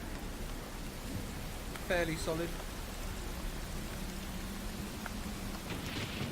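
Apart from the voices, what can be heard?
rain sound effect "Dark and Stormy" from Battle Bards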